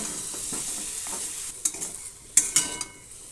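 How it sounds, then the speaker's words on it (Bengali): Egg fried with vegetables in a kadai over low heat for vegetable khichuri, with soft continuous sizzling and a few sharp scrapes and clinks of a spatula stirring against the pan, and no talking. "ডিম কড়াইটাকে দিয়েও ভালো করে হালকা আঁচে ভেজে নিচ্ছি"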